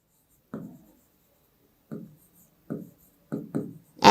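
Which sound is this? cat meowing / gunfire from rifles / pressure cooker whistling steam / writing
writing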